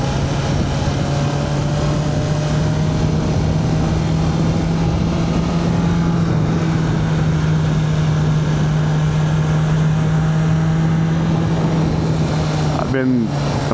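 A BMW S1000RR motorcycle ridden on twisty roads, its engine holding a steady, close drone under constant wind rush for the whole stretch, with a brief rising sweep near the end.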